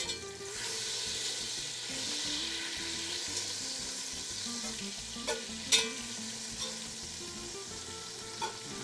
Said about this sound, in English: So we want to stir that in, let it cook up a little bit, and it's on a medium heat.